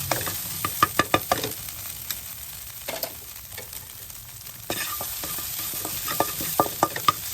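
Ingredients pounded with a pestle for a canned-fish salad with mango shoots, sharp irregular thuds and knocks over a low background hiss, in quick bursts with short pauses.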